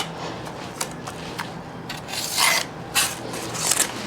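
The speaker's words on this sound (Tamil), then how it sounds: "கட் பண்ணுறதுக்கு நான் சிசர்ஸ் தான் யூஸ் பண்ண போகிறேன்" Scissors cutting material while setting up a new fish tank, heard as close, repeated rasping snips and rubbing over a steady background hiss.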